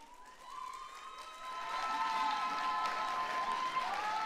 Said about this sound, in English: Men, don't clap too loudly.